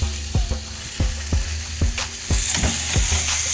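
Porterhouse steaks sizzle on a charcoal grill during a reverse sear, a steady close hiss broken by about nine soft thuds and scrapes as the meat is turned over one piece after another.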